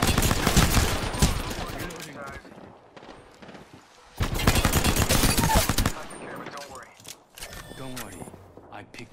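Rapid bursts of video game gunfire crackle in several loud volleys with brief pauses between them, under and between frequent voices talking over the action.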